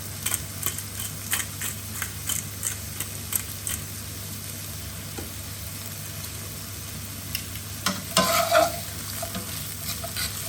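Tinned salmon warming in garlic and olive oil gives a low, steady sizzle with scattered clicks and a brief louder burst of crackle near the end, with no talking.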